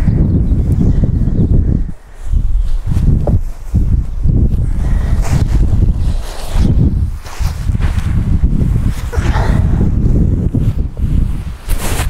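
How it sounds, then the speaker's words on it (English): Strong gusts of outdoor wind buffet the microphone and flap a feather-light camping quilt, a loud, rough roar with short lulls between gusts. "It just blows away in the wind."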